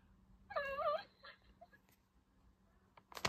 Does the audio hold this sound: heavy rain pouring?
no